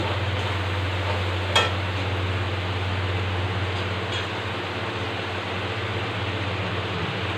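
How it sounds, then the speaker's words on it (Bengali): Spice paste with Kashmiri red chili powder and salt cooks in a pan for a jackfruit seed curry with a soft, steady frying hiss over a low background hum and a single clink of a utensil early on. "আরও একটু জল দিয়ে মশলা ভালো করে কষিয়ে নেব"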